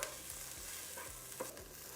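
Onions, garlic and ginger frying golden and soft in a pan, a steady soft sizzle with a few light scrapes and stirs, close and continuous with no voices.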